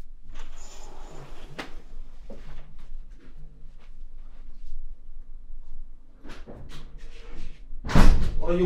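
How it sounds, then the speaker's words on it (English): Heavy knocking and banging on a house door, scattered thumps ending in a loud, close slam-like burst, with a voice calling out between the blows. "Why are you banging on my door like that?"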